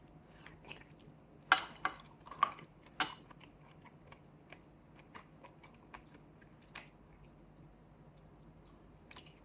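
A big piece of chicken gizzard is chewed close up, with a few sharp wet bites early on followed by quieter, scattered squishy chews in an otherwise silent room.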